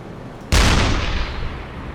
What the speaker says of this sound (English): we'll just finish them up with the deck gun